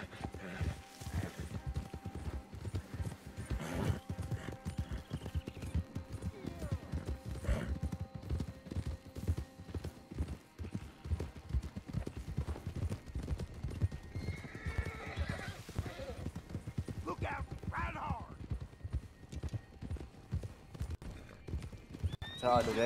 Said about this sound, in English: I'm just running around here with my horse.